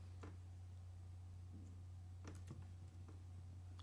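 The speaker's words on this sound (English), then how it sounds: "I'm gonna type in a new range of tempos." Keys clicking in a few short scattered bursts on a computer keyboard while entering tempo values in Pro Tools, faint and close over a steady low electrical hum.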